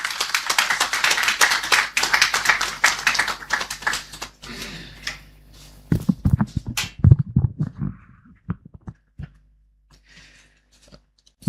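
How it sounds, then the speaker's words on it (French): An audience at a journalist training seminar applauds to welcome Samuel Eto'o, president of the Cameroonian football federation. A few seconds of brisk, dense clapping give way to sparser scattered claps, then the sound fades into near silence. "Je vais donc vous prier d'applaudir et d'accueillir ici, comme il se doit, M. Samuel Eto'o,"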